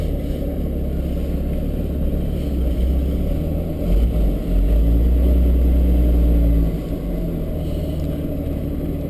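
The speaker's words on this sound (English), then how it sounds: "let's go ahead and we'll just put it in reverse, take the brake off, just back up a little bit here in the driveway" A 1940 Chrysler Windsor Coupe's engine idles loud and close while reversing slowly in a driveway, a low steady rumble that swells briefly midway, with no talking.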